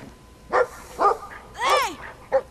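A dog in the video game Brothers: A Tale of Two Sons gives several sharp, loud barks and yelps in quick bursts, one drawn-out howling yelp in the middle, close and clear over a faint background.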